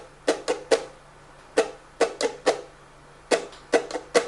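A ukulele strummed in a down-down-down-up pattern, with crisp, evenly spaced strums grouped into about three repeated cycles and brief pauses between groups.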